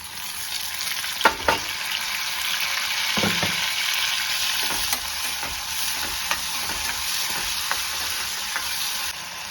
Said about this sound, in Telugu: ఫస్ట్ ఎర్రగడ్డలు, తెల్లగడ్డలు బాగా ఫ్రై అయినాక టమాటాలు వేయాలి